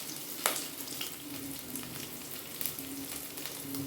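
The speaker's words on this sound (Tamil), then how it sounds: "இப்போ வந்து சாம்பார் தாளிக்கிறேங்க" Spices for sambar sizzle and crackle in hot oil, a steady frying hiss with a few sharper pops close by.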